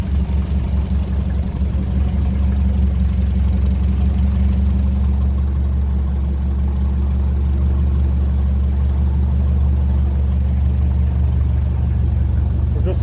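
A 1957 Ferguson 35 tractor with a TVO engine idling nearby, holding a steady, loud, low rumbling drone throughout with no change in pace.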